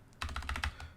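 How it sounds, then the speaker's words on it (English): Quick bursts of keystrokes on a computer keyboard while entering a password, clattering close and clear in an irregular run of about seven taps with brief pauses, no voices. "I keep typing it wrong"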